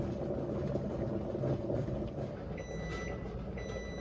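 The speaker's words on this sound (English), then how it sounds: "There's the timer." A series of high electronic beeps from a kitchen timer sounds over a steady low rumble of a boiling water-bath canner, repeating several times toward the end.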